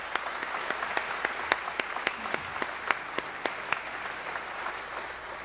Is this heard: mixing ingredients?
no